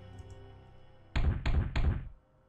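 A locked door rattles in the video game Ib, three heavy, evenly spaced knocking thuds following a quiet stretch, fairly loud and alone.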